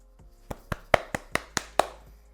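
Hands scrunching and clapping through curly hair after styling product, a run of seven crisp, evenly spaced soft claps close up, with no talk.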